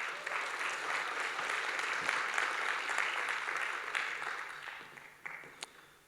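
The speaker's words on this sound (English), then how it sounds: "Applause." Conference audience applauding after an address on media freedom in Europe, a moderately loud round of clapping that swells, holds, and tapers off over several seconds.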